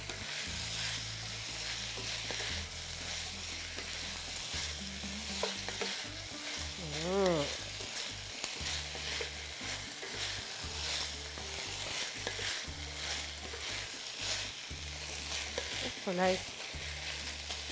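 Quail and potatoes fry together in a pan for a dish of quail with preserved lemon and olives. A quiet, continuous sizzle sits under a low hum, with repeated scraping stirs and a couple of brief high chirps.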